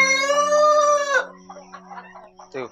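A rooster on a poultry farm crows once loudly and close, followed by softer clucking from several hens and a short squawk near the end.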